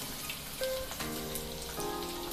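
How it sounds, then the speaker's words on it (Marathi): Chopped onion sizzles in a teaspoon of hot oil in a pan, a steady close crackling hiss with no talking over it. "सेम पॅनमध्ये मी एक टी स्पून इतकं तेल काढून घेतलेलं आहे यामध्येच कांदा काढून घेऊया"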